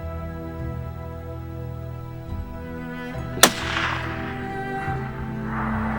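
A single sharp rifle shot cracks out during a hunt in Mexico, loud and sudden against a quiet outdoor backdrop with a low steady hum, followed by a fading echo.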